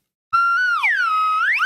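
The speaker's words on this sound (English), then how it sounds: "Okay, slide whistle." Slide whistle sound effect: a single clean, loud tone that glides upward, swoops down, holds low, then slides back up, sustained for over a second after a brief silence.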